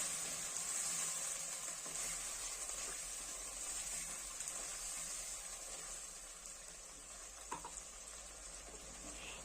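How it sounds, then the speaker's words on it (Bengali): Masala paste for crab masala frying over low to medium flame in a pan, giving a steady, soft sizzle and hiss that runs the whole time with a faint clink near the end. "এরপর আমি এর মধ্যে দিয়ে দিচ্ছি পেস্ট করে রাখা সমস্ত মশলা লো টু মিডিয়াম ফ্লেমে পাঁচ থেকে ছ মিনিট মশলাটাকে ভালো করে কষিয়ে নিতে হবে"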